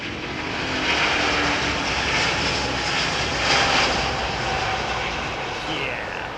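Aircraft engines roar steadily at London Heathrow's runway 27R, a loud, broad, continuous rumble and whine that swells slightly midway and fills the whole stretch without pause.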